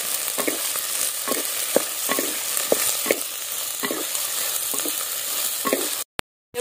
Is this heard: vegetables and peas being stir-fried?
yes